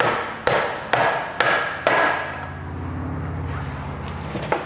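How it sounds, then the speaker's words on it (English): A mallet strikes a large socket four times in a steady rhythm, pressing a seal into the front wheel of a Piaggio Beverly BV350 scooter; the hits are sharp and close, followed by a fading ring. "You're going to want to find a large socket that's the size of that and tap it back"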